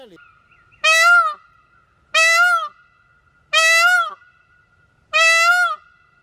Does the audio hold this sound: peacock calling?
yes